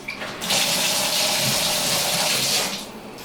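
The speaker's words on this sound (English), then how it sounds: "we have a faucet which is blasting this with water" Faucet blasting water onto a small electronic chirper device during a water-resistance test, a loud hissing splash that starts abruptly, holds steady for nearly three seconds, then drops away, with no talking over it.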